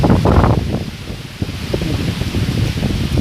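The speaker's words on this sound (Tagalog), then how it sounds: "umuulan dito ng malakas tapos malakas ang hangin" Loud, steady roar of gusting wind during Typhoon Ulysses (Vamco) with heavy rain, buffeting the microphone, broadband and rushing throughout with no pause.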